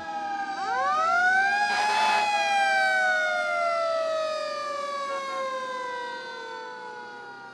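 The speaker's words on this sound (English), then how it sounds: "pull over to the right shoulder of the roadway, allowing emergency vehicles to maneuver around you" An emergency vehicle siren wails loud and close, its stacked tones sweeping up sharply then slowly gliding down in one long continuous cycle with no voices present.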